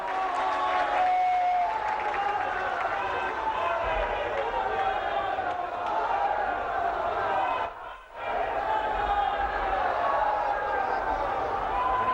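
A large audience applauds loudly and steadily to welcome the Prime Minister at a public event in Kashi, a dense sustained clapping roar with cheering voices mixed in, dipping briefly before swelling again.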